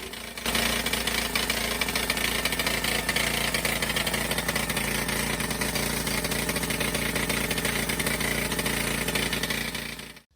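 Suffolk Super Punch 17-inch professional mower engine, restored and newly started, runs steadily close by with a continuous buzzing, rattly idle that holds even for about ten seconds before cutting off abruptly.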